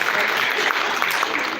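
A conference audience gives a dense, sustained round of applause for a speaker at an Industry 4.0 event in India, steady and full throughout with no pauses.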